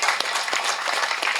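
Audience clapping at a Tamil film's music and trailer launch event, a steady burst of applause from a crowd filling the hall with dense, continuous hand claps.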